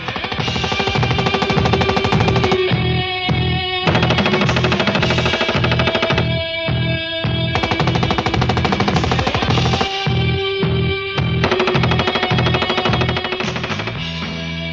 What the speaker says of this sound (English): I'm shooting the MPK submachine gun.